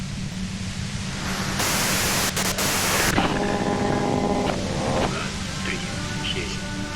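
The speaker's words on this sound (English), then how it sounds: "If you've got something really important to say, you can do it through the white noise." Radio white-noise static from the video game Disco Elysium, a steady broadband hiss that swells louder midway and then eases, with faint tonal hum and game sounds running beneath it.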